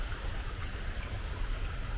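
Heavy rain falls at a house, a dense, continuous hiss and patter at moderate level over a brief stretch, with no talking.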